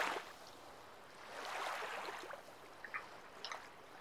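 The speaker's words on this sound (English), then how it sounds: "I hear the splashing of water." Water splashes and trickles steadily at a hidden pond in misty surroundings, a soft continuous wash at moderate distance with a few brighter splashy bursts toward the end.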